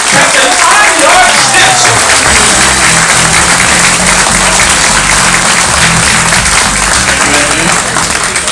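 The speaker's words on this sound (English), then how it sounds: "how about a big round of applause for the master of the vessel, Captain Lara" A big round of applause for the master of the vessel aboard the Holland America cruise ship Maasdam, loud and dense clapping from a packed audience sustained for over eight seconds, with some crowd murmur mixed in.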